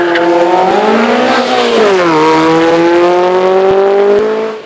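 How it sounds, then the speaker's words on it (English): Lotus Europa twin cam race car with a dry-sumped Ford twin cam engine of around 145 horsepower, climbing at a hillclimb; loud, close engine note rising through the gears with a shift near the middle, then dropping away at the end. "Gordon Morrison now in the Lotus Europa twin cam."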